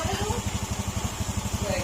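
A freshly repaired engine with its timing newly set idles steadily, its low, even pulses close and unbroken for the whole stretch.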